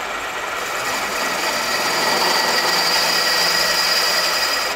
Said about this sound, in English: all the holes need to be counterbored with that drill to 1 inch depth